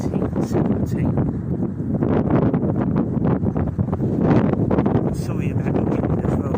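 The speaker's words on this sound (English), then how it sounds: "Sorry about the wind as well, guys." Strong wind buffets the microphone outdoors in an old churchyard cemetery in Beaconsfield Old Town, making continuous loud rumbling and rustling gusts throughout.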